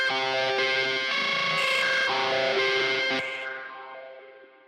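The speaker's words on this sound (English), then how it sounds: "And after that, I have a lead guitar." A distorted lead guitar plays a loud melodic line with effects, then the final note rings out and fades with a lingering echo.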